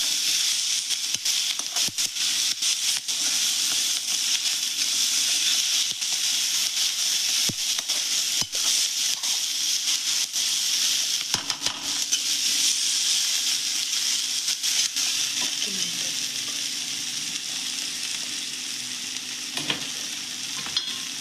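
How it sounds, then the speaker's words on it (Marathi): Fenugreek leaves with salt are stirred in a hot pan, a steady broadband sizzle and frying hiss running throughout with faint scraping strokes of the spoon, close and continuous with no talk. "आता आपल्याला असं मिक्स करून घ्यायचं"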